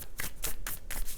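Tarot cards are shuffled up close in quick riffling bursts, several rapid flutters of stiff paper in a short sequence.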